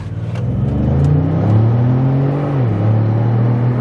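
A Ford Ecoboost car with a performance tuning module, running in Eco mode, accelerating hard from 0 to 60, its engine climbing steadily in pitch, dropping briefly at a gear change, then rising again, loud and close from the cabin.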